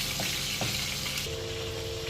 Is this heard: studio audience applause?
no